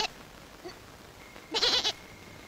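Goats give a brief bleat close by after a faint earlier call, alone with no talking.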